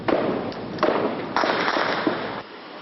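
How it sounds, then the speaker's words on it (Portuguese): An exchange of gunfire in one of the communities of Complexo do Alemão: a handful of sharp, echoing reports in irregular succession, fairly loud and reverberant, with a rumbling tail between shots. "nossa equipe de reportagem conseguiu registrar uma troca de tiros"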